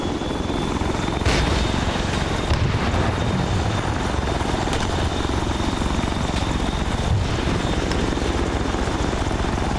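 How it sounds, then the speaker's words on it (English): A helicopter engine in ArmA 3 spools up with a steady, loud turbine whine and rotor drone that fills the whole stretch and stays constant, with no talk over it. "That other chopper is spooling up."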